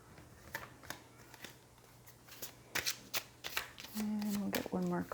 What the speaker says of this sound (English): And we'll get one more card here for Spirit.